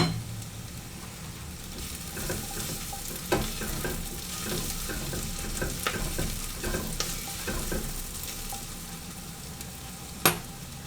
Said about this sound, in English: I'm going to add the garlic now. Just get the garlic a little soft